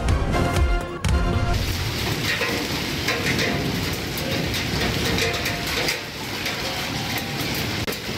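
Steady heavy rain falling across cities in Pakistan, a dense continuous hiss with no breaks; a brief louder burst near the start settles into an even downpour throughout.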